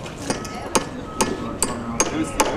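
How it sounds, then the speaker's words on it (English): A hammer striking the wooden framing of a hurricane shelter: about six sharp, evenly spaced blows at close range over a steady outdoor background, with no talk. "Let's hammer the framing."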